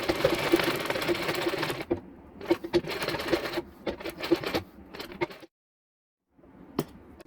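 A sewing machine stitches a handkerchief hem in quick rattling bursts, stopping and restarting several times, with a fully silent pause near the end before it runs again.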